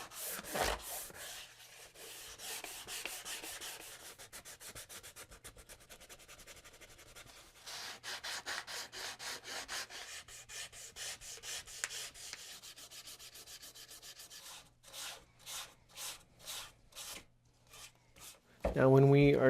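Sandpaper at 180 grit rubbing back and forth over a wooden guitar neck, steady close scratchy strokes that grow into distinct rhythmic passes toward the end, followed by a brief louder handling noise.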